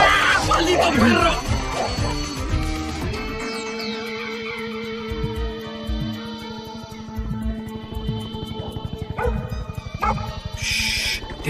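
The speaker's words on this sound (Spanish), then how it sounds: "¡Maldito perro!" A dog barks and yips loudly in a chaotic film scene, sharp repeated barks and whimpers close by, mixed with excited shouting voices and a musical score.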